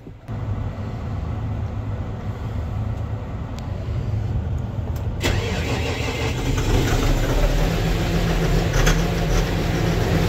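A diesel tractor engine, glow plugs heated first, cranks and catches, then settles into a steady loud rumbling idle that continues throughout.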